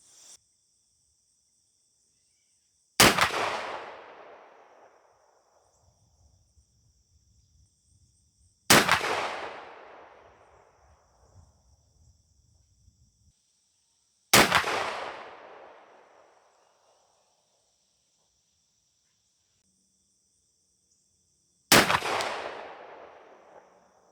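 Four loud Winchester Super X 20 gauge 2-3/4 inch 3/4 oz slugs fired from a Stevens 301 shotgun with a rifled choke, each a sharp outdoor blast with a decaying tail, spaced several seconds apart, with faint insect chirping in the background.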